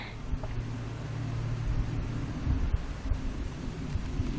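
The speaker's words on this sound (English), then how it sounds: "You can hear those workers just humming." Package honeybee workers clustered in a bee box give a steady, low drone that holds evenly throughout, close by and without voices.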